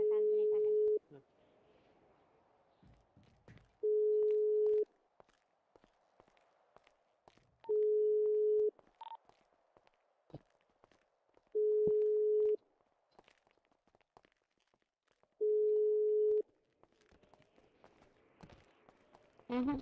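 A phone call in GTA 5 roleplay rings out as five evenly spaced electronic tone bursts, each about a second long and separated by roughly three seconds of quiet, with faint scattered background noise between them.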